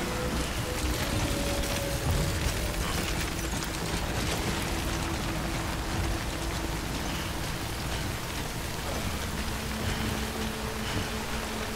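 Steady, dense rain falling in the video game Death Stranding without a break, a constant hiss of drops with a faint tonal hum underneath and no voices.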